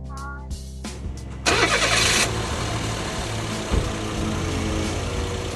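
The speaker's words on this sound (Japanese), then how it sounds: "まず純正のエアクリーナーがついてる状態の音を聞いてみましょう。" A car engine with its stock air filter cranks briefly, then catches and starts with a loud burst before settling into a steady idle, recorded up close.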